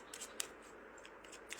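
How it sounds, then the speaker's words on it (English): Oracle message cards shuffled by hand, giving faint, quick papery swishes and a few light snaps close by, soft and without talk. "I'm just shuffling up the cards."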